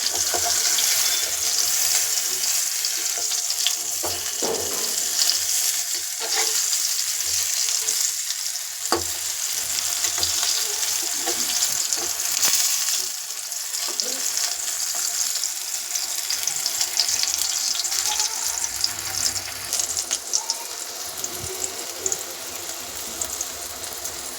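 Eggplant pieces frying in hot oil for begun bhorta, a loud, continuous crackling sizzle with scattered pops and occasional utensil scrapes throughout.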